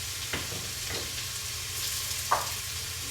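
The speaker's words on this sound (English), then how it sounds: "Just stirring that in." A spoon stirs seasoning into a pot of fish soup, making a few soft scraping strokes and a single sharp clink against a low steady simmering hiss, with no talking.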